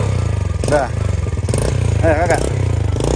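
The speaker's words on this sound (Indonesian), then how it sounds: "Kasih hidup motor." A new motorcycle running close by, its engine putting out a low steady throb with small revs, while voices talk over it.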